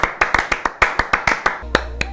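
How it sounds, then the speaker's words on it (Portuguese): Quick bursts of hand clapping, a dozen or so sharp claps in an uneven rhythm, close and fairly loud, during Among Us gameplay, with a low hum coming in near the end. "Bateu uma salva de palma aqui pro profissional"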